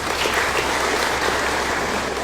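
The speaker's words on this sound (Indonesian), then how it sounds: "Tepuk tangan." Steady, dense applause from a gathered crowd at a village meeting with the Bandung regent in Lamajang, Pangalengan, sustained and fairly close throughout.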